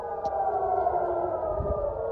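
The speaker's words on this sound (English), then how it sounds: "They heard the sirens." Air raid sirens sound during missile strikes in Iran, a sustained, steady wailing tone at moderate distance, heard alone without speech.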